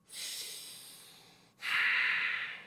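Two long, slow, calm breaths, a soft airy exhale followed by a fuller inhale, close and clear with nothing else heard.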